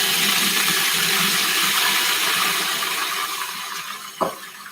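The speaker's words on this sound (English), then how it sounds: "And all we add next is water." Water poured into a garlic and walnut sauce mix, a steady, close rushing splash that slowly thins out, ending with a small knock.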